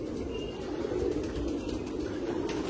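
Pigeons coo softly in an Andra pigeon loft in Kolkata, a steady low murmur of overlapping calls at close range over a constant background hum, with no talking.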